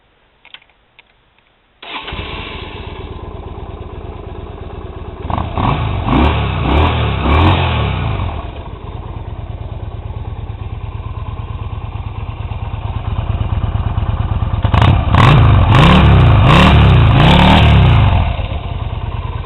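A 2008 Yamaha V-Star 250 two-cylinder motorcycle cranks and fires up, then idles steadily with two strong rising-and-falling revving bursts, close and loud with no talking.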